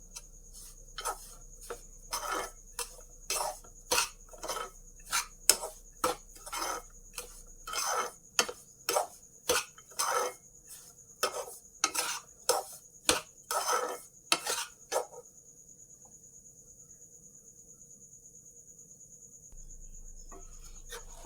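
Dry fruits and coconut being stirred and fried in a pan for coconut laddoo: a quick run of rhythmic metallic scrapes and taps against the pan, close and clear, then the stirring stops, leaving a faint background hum.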